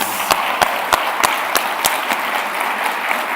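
Audience applause at a closing ceremony: broadband clapping from a crowd with a few sharp, louder claps standing out near the front, steady and moderately loud throughout.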